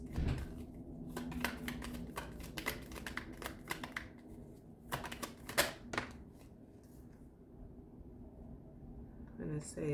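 Tarot cards shuffled and drawn from a deck, giving bursts of crisp riffling and flicking, with quieter stretches between them, under a steady murmur of speech.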